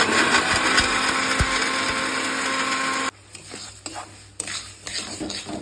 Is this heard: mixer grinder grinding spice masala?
yes